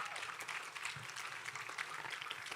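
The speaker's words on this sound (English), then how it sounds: "it deserves another round of applause." A crowd applauding steadily at a moderate distance at a school graduation ceremony, dense clapping throughout with no voices.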